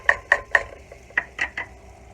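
Whisk beating flour into melted butter in a pan, a series of six quick metallic clicks and scrapes in two clusters, close and fairly soft.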